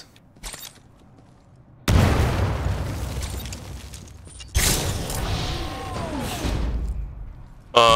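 An arc grenade in Titanfall 2 bursting in two heavy booming blasts with crackling electrical rumble that trails off, loud and close, amid game effects.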